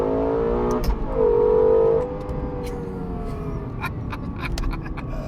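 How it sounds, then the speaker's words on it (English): Lexus LFA engine heard from inside the car, a loud rising rev around the first two seconds that peaks and drops, then a steady exhaust drone with brief sharp clicks, no talking. "I love just the audio when you're shifting gears, that little ratchety kind of sound, and just the exhaust note"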